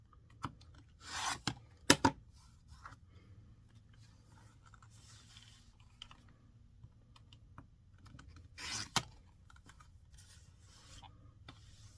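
Rotary cutter or scissors trimming the pinked edges off stacked 4.5-inch charm-pack fabric squares for a table runner, giving a few short sharp rasping cuts near 1–2 and 8.7 seconds between quiet handling and soft rustles.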